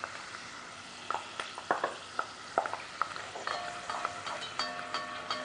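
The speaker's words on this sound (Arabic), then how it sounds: "مهم جدا نقلب بالمكسرات وإحنا بنقليها عشان تأخذ نفس اللون" Almonds, pine nuts and pistachios frying in a pan, a soft continuous sizzle broken by repeated scraping, clicking stirs as the nuts are turned, close up.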